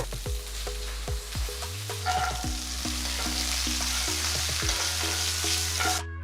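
Steady sizzling and crackling of peanuts, dried chillies, asafoetida and curry leaves frying in hot oil, with a spoon scraping and stirring the pan throughout.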